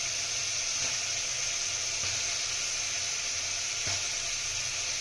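Potatoes dropped into sizzling spice paste, with oil separating, for a Bengali rohu fish curry with potatoes: a steady, close frying hiss, with a few soft thumps and crackles from the potatoes hitting the pan.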